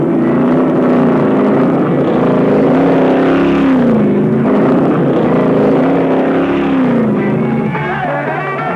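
Stock race cars roll off the track into the pits for fuel and fresh tyres, engines droning loudly with rising and falling pitch as they slow and manoeuvre, with faint voices underneath.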